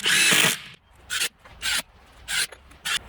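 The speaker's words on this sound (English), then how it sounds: "we're just going to attach a few screws on the back" A power drill drives screws into a wooden DIY garden bed: one longer whirring run, then four short buzzing bursts in a steady rhythm, close up and fairly quiet.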